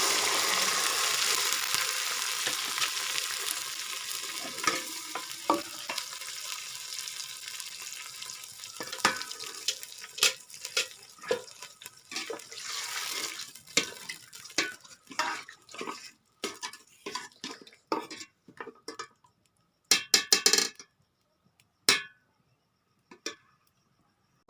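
Meat being stirred into a pot of sizzling onion masala for aloo gosht, a steady loud frying hiss that gives way to intermittent scraping and clanking of a spoon against the pot.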